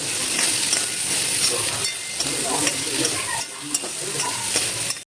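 Okra (bhindi) roasting in a pan with lemon juice and salt sizzles loudly and steadily up close, with crackles and stirring scrapes, cutting off abruptly at the end.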